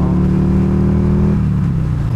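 A Buell XB12S motorcycle engine pulls hard and loud up close, a deep throbbing V-twin drone rising in pitch, then dropping back as the rider shifts gear.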